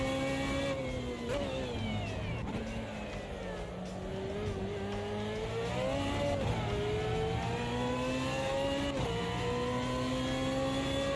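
An Aston Martin race car in a racing video game roars through repeated acceleration runs, its engine pitch climbing and dropping with gear shifts, loud and continuous with faint tyre squeal and no speech.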